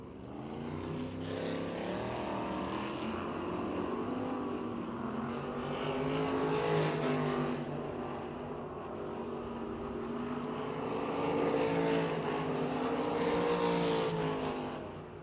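410 sprint cars race on the dirt track at Port Royal Speedway, engines roaring loudly in a continuous pack, swelling and fading in waves as they pass by.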